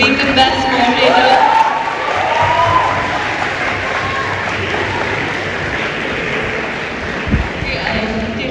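Audience at a Model UN closing ceremony bursts into a loud wash of applause and cheering that gradually eases off over several seconds.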